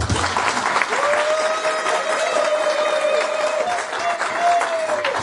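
Loud, continuous applause from a crowd at an International Women's Day gathering, steady and dense throughout, with a faint tonal hum running under the clapping.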